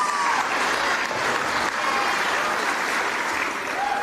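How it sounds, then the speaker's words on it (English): Dense, even audience applause fills a tenth-anniversary performance event, sustained and loud throughout with a faint hum of crowd noise beneath. "Round of applause, ladies and gentlemen, once again, for Fuapauna class."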